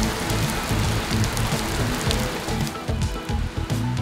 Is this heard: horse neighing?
no